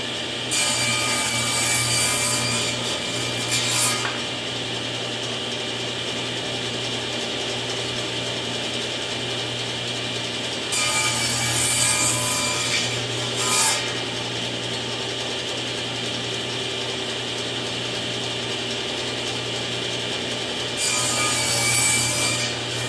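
Wooden boards being cut to length with a saw, three loud rasping bursts separated by quieter stretches of steady mechanical whir.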